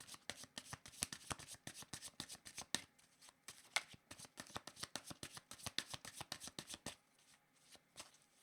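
Tarot cards being shuffled close up in rapid crisp riffles and flicks, a dense run of soft slaps that thins out near the end, quiet overall.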